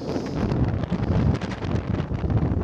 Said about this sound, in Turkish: Bayağı rüzgar biniyor.